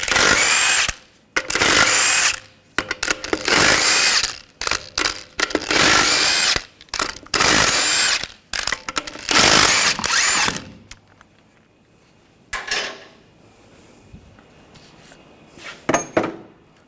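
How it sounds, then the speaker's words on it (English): A power tool with a 19mm socket spins off lug nuts on a Chevrolet Colorado wheel, loud repeated whirring and rattling bursts in quick succession, then quieter clinks and tool handling afterward. "Using a 19mm socket, we'll take the lug nuts off."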